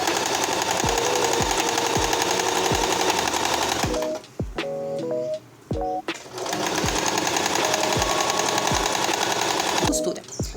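Sewing machine running a long, loose gathering stitch on a strip of fabric for a table set, steady loud whirring with a short pause midway and rhythmic needle thumps throughout.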